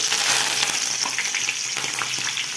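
Green chillies and curry leaves fry in hot oil while chicken feet are being fried, giving a loud, continuous, close-up sizzle with faint crackles and no speech.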